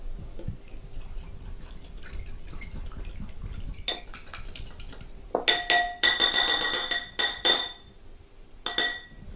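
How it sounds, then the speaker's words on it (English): Salad dressing whisked in a bowl, a run of rapid metallic clinks and taps against the bowl that grows louder in quick rhythmic bursts after a quieter start, close by. "Whisk it up."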